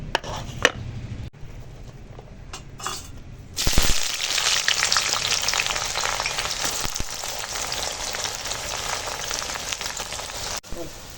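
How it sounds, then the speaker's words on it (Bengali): Chopped onions drop into hot oil and fry, the sizzle jumping suddenly loud and then holding as a steady, close crackle, after a few soft clatters of preparation. "তো চলো তেলের ওপর এখন পেঁয়াজটা আগে দিয়ে দিই"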